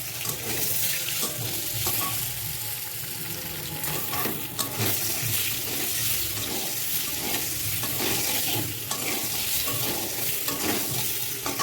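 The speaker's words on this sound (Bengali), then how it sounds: "এবার ডিমটা আমি নুন হলুদ দিয়ে ভালো করে ভেজে নেবো," Boiled duck eggs with salt and turmeric fry in hot white oil in a kadai, a loud, continuous sizzle and crackle with occasional scraping from stirring, close and busy throughout.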